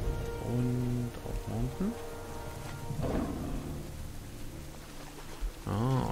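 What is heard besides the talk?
rain in video game World of Warcraft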